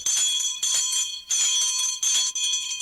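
A school bell rings in four bright metallic bursts separated by short pauses, each ring sustained and shimmering, in a 1951 radio show.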